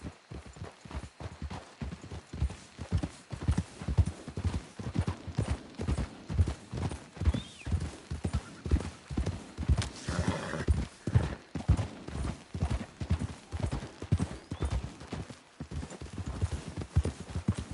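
Horse hooves clip-clop in a steady walking rhythm throughout, moderately close, with a brief whinny partway through, in the video game Red Dead Redemption 2.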